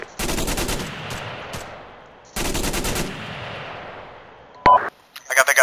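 Two long bursts of rapid automatic rifle fire in ARMA 3's Altis battlefield, loud and close with echoing tails, followed by a short sharp shot and a few scattered distant cracks with brief radio-like chatter.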